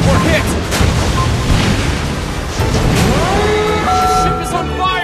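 A shell strikes the Japanese battleship Hizen in World of Warships Blitz, a loud booming impact amid constant battle rumble, followed by a rising ringing tone and siren-like sweeps, with game voices over the noise.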